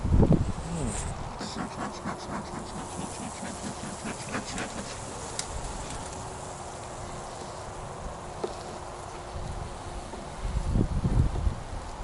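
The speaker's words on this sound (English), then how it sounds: "Look at how many bees there are" A steady drone of honeybees buzzing around an open hive fills the scene, with occasional rustling and handling noises close by as the hive is treated with Apivar varroa mite strips, getting louder near the end.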